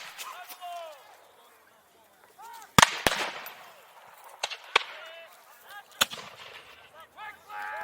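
Reenactors' musket volleys at a 2019 Revolutionary War battle reenactment crack out as several sharp, loud separate reports spread across the clip, between shouted commands and other voices.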